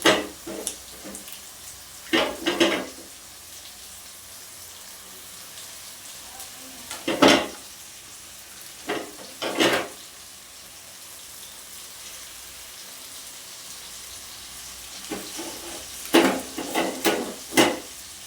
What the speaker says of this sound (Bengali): একটু একটু করে গুড় আমি এরকমভাবে মিশিয়ে দেব।